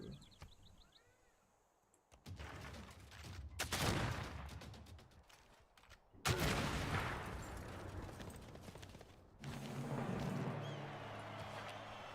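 Rapid cannon and gunfire in a Civilization VI battle: bursts of booming, crackling shots in several loud clusters, with a few faint bird calls at the start.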